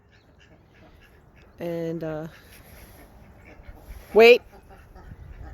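Ducks used for herding-dog practice outdoors let out a pair of quick quacks, then a single louder quack a couple of seconds later, against quiet surroundings with a brief spoken command.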